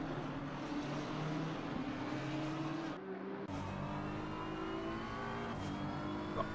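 A Lamborghini race car in a sim racing endurance event at Bathurst holds a steady engine drone, its pitch climbing through the gears with a short dip around a shift, fairly faint and continuous, no voices.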